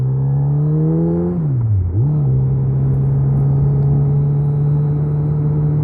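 Motorcycle engine running steadily on a winter ride in Michigan, a loud continuous rumble with a brief dip in revs around the two-second mark before settling back to a constant drone.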